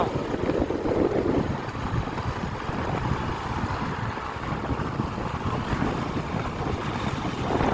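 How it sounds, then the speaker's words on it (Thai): Continuous heavy rush of rain driven by gusting wind, loud and close, a steady roar. "ฝนมากับลมมา"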